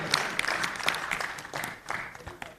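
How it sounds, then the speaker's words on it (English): Applause from the audience at a hotel company's annual general meeting, moderately loud and steady for a couple of seconds, with a voice speaking over the clapping. "We need to clap for them."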